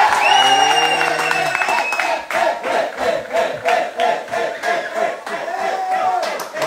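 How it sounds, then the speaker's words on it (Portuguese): A group of people claps hands in counted bursts during a Brazilian social media celebration for reaching seven million followers, loud close claps and cheering mixed with voices, music-like tones and lively crowd noise. "nas palmas, uma palma, duas palmas, três palmas"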